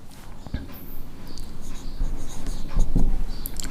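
Pen or marker strokes scratch steadily while a math equation is written out, a soft continuous scribbling with a few sharper taps, moderately close in a quiet room.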